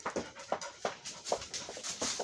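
A dog pants in quick, rhythmic breaths broken by short, high whimpers, close and fairly loud with no talking over it, while sitting on command.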